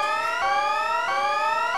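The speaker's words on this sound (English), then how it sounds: "What? An alarm?" A repeating electronic siren-like alarm from the video game Hyperdimension Neptunia Re;Birth 3, a loud, steady, harmonically rich tone pulsing in a regular rise-and-fall cycle with no talking.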